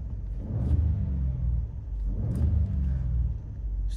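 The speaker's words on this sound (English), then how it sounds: "Let's give it a couple of revs here." Engine of a 2021 Ford F-150 Lariat pickup with about 16,500 miles revved twice, each blip swelling into a loud, deep rumbling roar before easing back to a steady idle.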